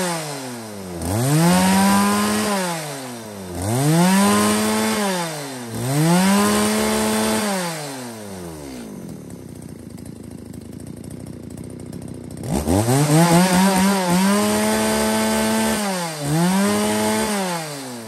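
Echo chainsaw cutting wood, about 35 cm in diameter: three loud rev-and-bite cycles with rising and falling engine pitch, a quieter idling stretch, then another strong cutting burst, all close up and free of speech.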